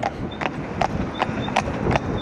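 A six-year-old driving horse trots, its hooves giving a clear, evenly spaced clip-clop of about six strikes, close by, over a low background rumble.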